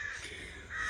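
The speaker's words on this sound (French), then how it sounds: "On entend surtout les corbeaux" Crows caw outdoors in harsh, nasal calls that carry from a distance, with a louder caw near the end of a brief stretch.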